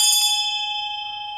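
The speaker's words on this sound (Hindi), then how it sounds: "जिनके लिए घंटी बज रही है।" A single bright bell strike rings out clearly for a guest, its clean metallic tone sustaining and slowly fading over a quiet background.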